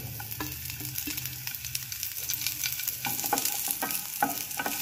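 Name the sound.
frying curry leaves and nalleru (veldt grape) pieces in pan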